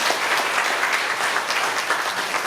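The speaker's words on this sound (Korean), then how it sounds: "감사의 표시로 큰 박수 한번 부탁드립니다" Dense applause from a citizen audience at a Pocheon city roundtable meeting, thanking the mayor; steady, full clapping throughout with no pauses or voices.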